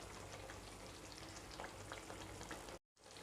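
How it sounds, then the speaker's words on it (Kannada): Spices, red chilli powder, coriander powder, garam masala and chole masala fry in oil in a pan for dhaba-style chole, giving a steady close sizzle with faint stirring scrapes until a brief cutoff near the end. "ಇದನ್ನು ಒಂದು 5 ನಿಮಿಷದವರೆಗೂ ಇದೇ ರೀತಿ ಫ್ರೈ ಮಾಡ್ಕೊಳ್ಳೋಣ ನಾವು"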